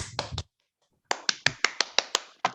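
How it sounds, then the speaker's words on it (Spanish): A few scattered hand claps at the close of a basic CPR workshop: two quick claps, a pause of silence, then about eight sharp, evenly spaced claps, close and fairly quiet, with no voices. "Ahí tenés los aplausos."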